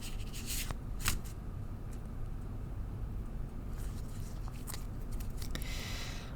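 Tarot cards riffle and flutter in a steady shuffle, with soft papery bursts repeating over a low background hum, close and moderately quiet.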